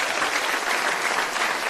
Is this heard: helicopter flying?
no